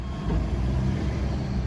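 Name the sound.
truck reversing beeps nearby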